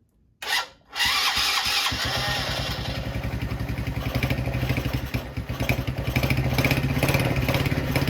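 A 70cc Chinese quad engine cranks and catches, then settles into a close, loud, steady idle with a rapid rhythmic putter that gradually grows slightly stronger.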